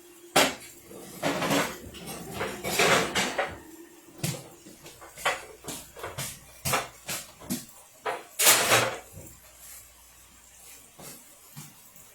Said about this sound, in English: Take these pans.